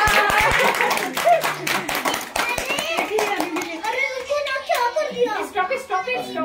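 A family claps at a home wedding anniversary celebration, sharp hand claps opening the clip, then mixing with children's and adults' chatter and cheering close by.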